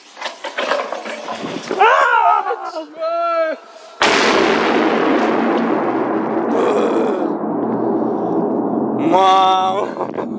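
An FS3 firecracker goes off with a sudden, very loud close blast, followed by a long, ringing noisy decay. Voices shout and talk over the start and the tail.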